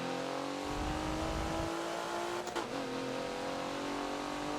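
A Porsche Macan in the Forza racing game on the Homestead super mini track, its engine droning steadily with a brief rev change partway through, fairly quiet and with no talk.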